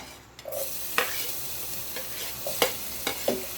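Garlic sautéing in oil in a pan, a steady close sizzle broken by several sharp scraping stirs of a utensil.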